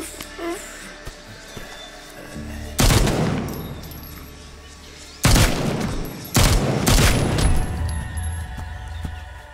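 Gunfire in The Walking Dead Onslaught video game, three loud close bursts of rapid shots separated by quieter stretches with faint clinks.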